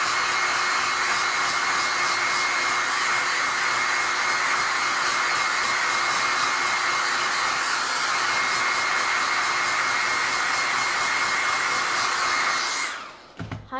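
A hair dryer blows steadily and loudly at close range for a long stretch while drying a craft project, then switches off abruptly near the end.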